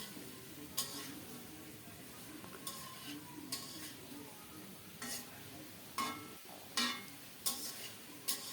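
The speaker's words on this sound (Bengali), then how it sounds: "মশলার সাথে ফুলকপিটাকে আরও কিছুক্ষণ কষিয়ে নেব" Cauliflower fries in spice paste while being stirred, a faint sizzle under repeated scraping and clinks of a spoon against the pan at an irregular pace, close up with no talking.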